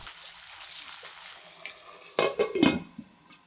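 Seasoned vegetables for namul stir-frying in a pan, a soft steady sizzle broken by a few louder scraping stirs near the end.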